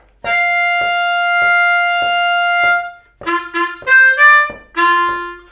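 A blues harmonica plays a long, pulsing held note, then a quick run of bending notes, loud and close with no voices.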